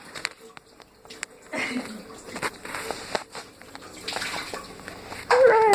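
Water runs and sloshes into a bath being cooled down after getting too hot, with intermittent splashes and clatters while an adult and someone talk over it.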